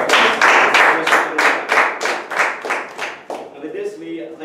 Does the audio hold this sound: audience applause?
yes